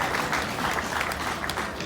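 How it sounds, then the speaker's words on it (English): Steady applause from an audience at a hot rod and custom car show awards ceremony at a racecourse, a dense wash of clapping held at an even level throughout, with no voices standing out. "Another round of applause for him."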